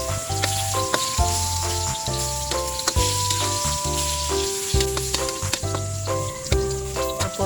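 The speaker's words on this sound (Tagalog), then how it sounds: "Prito muna natin ang ating saging." Banana slices (saging) frying in a pan for chicken puchero, a steady close sizzle with crackles and pops throughout, heard alongside soft background music.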